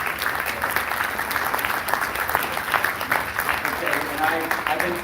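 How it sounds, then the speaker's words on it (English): Audience at a Libertarian party chair debate applauding the candidates, steady dense clapping filling the room throughout. "A round of applause for all of our candidates."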